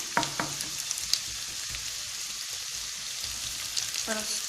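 Carrots for an English ragout with pumpkin fry in a pan, a steady close sizzle with faint stirring throughout, while a voice speaks briefly at the start and again near the end.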